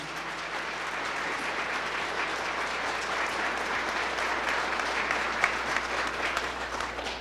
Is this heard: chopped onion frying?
no